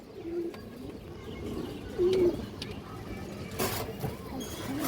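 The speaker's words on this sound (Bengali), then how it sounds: "খুব সুন্দর একটা কবুতর আছে" A pure old-line pigeon gives a few short, soft coos close by, one clearly louder in the middle, against a low background hum with a person speaking.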